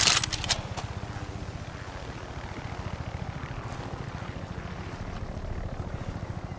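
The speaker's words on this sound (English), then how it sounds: "This plane should work for Philly." A military fighter plane in the video game Far Cry 6 holds a steady, rhythmic propeller-like engine drone at moderate distance, opening with a few sharp clicks.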